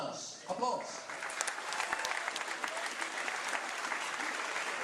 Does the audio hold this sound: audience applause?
yes